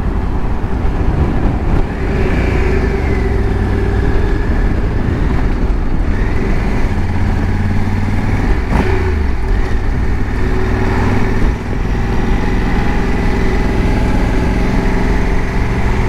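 A motorcycle engine drones steadily while riding along a mountain road, with heavy wind rumble on the microphone running continuously underneath.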